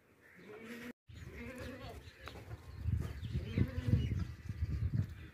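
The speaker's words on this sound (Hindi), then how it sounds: "बहुत ही प्यारी और खूबसूरत बकरी है" Desi goats at a livestock market bleat in several short, wavering calls, close by, over crowd murmur and nearby talk.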